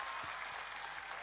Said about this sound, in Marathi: आपण सगळ्यांनी टाळ्या वाजवून स्वागत करा